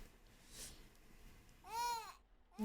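Baby babbling in the horror video game The Baby in Yellow: a short, faint, high cooing babble that rises and falls, set against quiet background hum.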